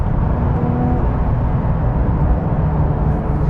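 A 2026 Porsche 911 GT3 Touring engine roars loud and steady as a close, dense rumble, with the auto-blip rev flare folded into the drone.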